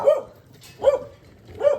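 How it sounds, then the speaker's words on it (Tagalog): Three sharp dog barks, evenly spaced, loud and near, with quiet between them. "Ingay yung aso."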